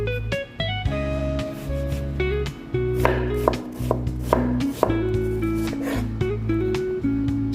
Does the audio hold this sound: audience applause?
no